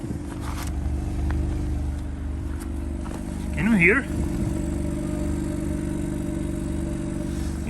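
A 2020 Mercedes A220 AMG with a 190-horsepower engine hums steadily and low, with a short spoken question partway through.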